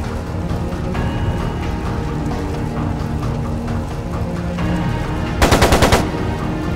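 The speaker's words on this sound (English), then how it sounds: "It sounded like a machine gun." Machine gun fire in Trails of Cold Steel II, a rapid burst of crisp, loud shots rattling out near the end over a steady bed of game music and ambience.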